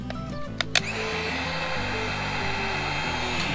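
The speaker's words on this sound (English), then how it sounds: "I just got a Wagner heat gun, a new" A Wagner heat gun running on its low setting while used with a paint scraper to remove old stickers, a steady close whirring blower hum with a couple of brief clicks near the start.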